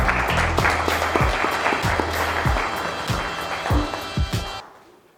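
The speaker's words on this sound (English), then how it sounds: "we would like to welcome, with a big round of applause, Mr. Mogobe." An audience applauds at an entrepreneurs' investment symposium to welcome a speaker onto the stage: a dense, steady burst of clapping with a few sharper individual claps, tapering off near the end.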